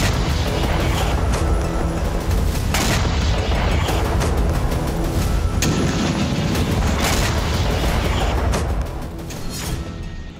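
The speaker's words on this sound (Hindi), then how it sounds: "इस्कंदर मिसाइलों से एक दो नहीं बल्कि कई फ्रंट पर ताबड़तोड़ धमाके किए जा रहे हैं।" Heavy, continuous rumbling booms from Iskander missile strikes on a military depot in Sumy, Ukraine, with repeated sharp blasts rolling over one another, loud and sustained, easing slightly toward the end.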